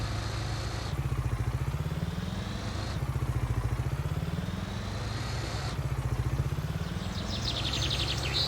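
Bird chirps from the Farming Simulator 19 map ambience come in faintly and briefly near the end, over a loud, rhythmically chugging vehicle engine that dominates the whole stretch.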